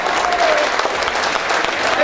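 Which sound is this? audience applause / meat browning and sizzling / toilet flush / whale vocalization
audience applause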